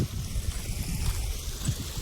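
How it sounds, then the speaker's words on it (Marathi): Rainwater flows down from higher rice paddy fields into lower ones in the countryside, making a steady close gurgling and splashing stream sound with no talk. "पाण्याचा आवाज बघा ना तिथे शेतामध्ये पाणी वरून खाली येते"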